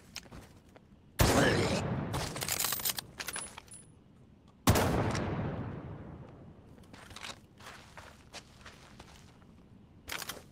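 Scoped K98K bolt-action sniper rifle from Medal of Honor: Above and Beyond, fired twice with loud sharp reports and lingering decay, separated by mechanical clicks and handling rattles of the bolt.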